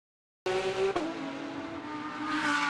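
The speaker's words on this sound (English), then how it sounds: "The Craft Bamboo Racing Mercedes AMG GT3 accelerates through the Solitude S's." A Craft Bamboo Racing Mercedes AMG GT3 race car powers through the Solitude Esses on the Macau street circuit after a silent start, with a loud, close engine note, a quick gear change, then a rising roar as it accelerates.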